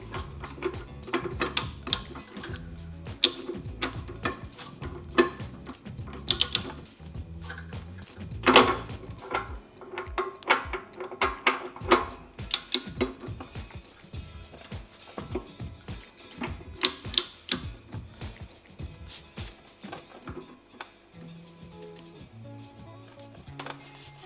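A wrench clicks and clanks on a rear suspension bolt as a Lotus Europa is assembled, tightened to 150 foot-pounds, giving irregular metallic ticks and knocks over about twenty seconds, close by with no talking.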